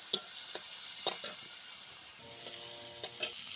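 Onions dropped into hot oil with fried potatoes and spices give a continuous bright sizzle, with a few utensil scrapes and taps from stirring at irregular moments, steady and close, with no voices.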